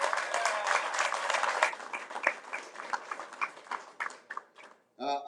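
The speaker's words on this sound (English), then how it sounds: "One more round of applause, please, for Mr. Pressman" Audience applause for Mr. Pressman at a hall of fame induction ceremony, dense clapping sustained for about five seconds, thinning toward the end, with a brief voice rising at the close.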